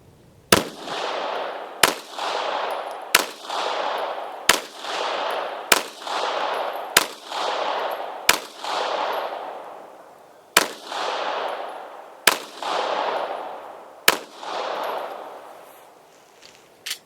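Pistol test firing with Murom Russian primers: eleven sharp gunshots, loud and close, at irregular intervals of about one to two seconds, each followed by a ringing decay, with no talk.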